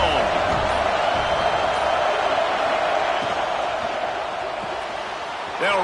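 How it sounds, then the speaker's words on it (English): Stadium crowd at a college football game roars in a loud, sustained wash of cheering that holds steady throughout, with an announcer's voice woven underneath. "This crowd ready to make its presence known."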